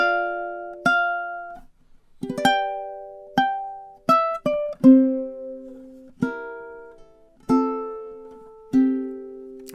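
A ukulele plays measure 19 of a song, plucked chords and single notes at an unhurried pace, each ringing and decaying, close and clear, with no talking.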